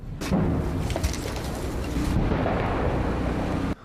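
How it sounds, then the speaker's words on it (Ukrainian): Deep rumbling explosions roll through a low, continuous roar, heavy and muffled as if from a distance, near the front line north of Pokrovsk, Ukraine, with no voices. "Навкруги тут цілодобово лунають вибухи"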